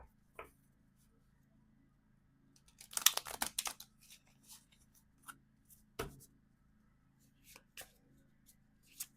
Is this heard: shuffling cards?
yes